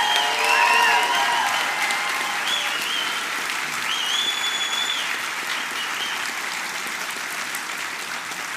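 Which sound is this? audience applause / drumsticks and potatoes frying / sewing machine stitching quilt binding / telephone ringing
audience applause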